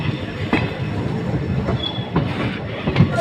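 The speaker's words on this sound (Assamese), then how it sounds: "ৰাতি ট্ৰেইনত যোৱা মজাই বেলেগ বহুত ভাল লাগিছে" A passenger train running through the night toward Guwahati, with a steady loud rumble of wheels on rails, rhythmic clicks and occasional squeals, heard from inside the carriage.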